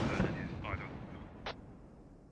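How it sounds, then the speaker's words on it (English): Mortar rounds land in a military video game: a heavy burst of explosive rumble at the start, then a sharp distant crack about a second later, with muffled voices in the background. "Mortar's landing right on top."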